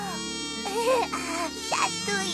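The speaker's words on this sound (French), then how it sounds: "Il bourdonne et vole en te chatouillant le nez" A cartoon firefly buzzes as it flies, making a wavering, whining tonal drone that rises and falls, with a single spoken word over it.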